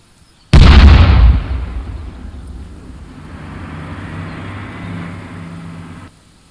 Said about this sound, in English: One of Bravo's trucks exploded for no reason.